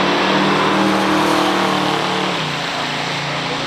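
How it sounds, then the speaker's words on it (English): A 1971 Dodge Charger RT with a 440 four-barrel V8 rated at 370 horsepower roars down a drag strip against a 1969 Mercury Cougar Eliminator, a loud sustained engine drone that shifts pitch partway through as the cars pull away. "This is a Dodge Charger RT, 440 4-barrel, 370 horsepower, going against this Cougar Eliminator"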